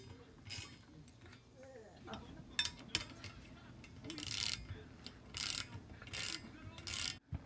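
Metal parts of a homemade metal loom being tightened from below, with ratcheting clicks, metallic clanks and scraping bursts, close and irregular.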